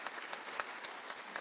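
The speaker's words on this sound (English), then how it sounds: "Well, a little round of applause" Brief, light applause from an audience honoring soldiers at a Veterans Day ceremony in Phoenix, scattered claps sounding fairly distant and soft, with no talking over it.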